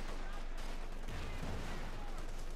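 Gunfire and anti-tank shots in the strategy game Company of Heroes 2 form faint, continuous battle noise, with low thuds and crackling shots layered under a steady background rumble.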